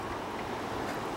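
Steady, continuous rushing water at a river, a broad even wash of flow noise with no voices and no breaks.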